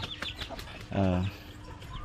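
Chickens in a backyard coop and run give a few short clucks, then one louder drawn-out call in the middle, over quiet surroundings.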